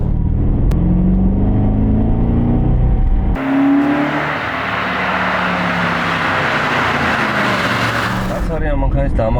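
An Audi S4 quattro with four-wheel drive drives on the road, its engine rumbling and revving from inside the cabin, with loud whirring and road roar while someone talks over it.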